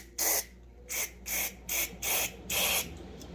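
Brake cleaner sprayed through a straw into a Zama carburetor on a McCulloch ProMac 800 chainsaw, six short hissing bursts in an uneven rhythm, close and fairly loud, with quiet gaps between them.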